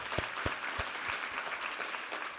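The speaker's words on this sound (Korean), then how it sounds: "우리 하나님께 감사와 영광의 박수 올려드리겠습니다." Church congregation applauding at an Easter Sunday service, a steady wash of many hands with a few sharper claps standing out near the start, sustained at moderate volume throughout.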